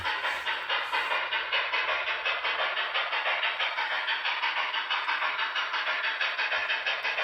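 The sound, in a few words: Broadway Limited T1B Boston and Maine Berkshire model locomotive running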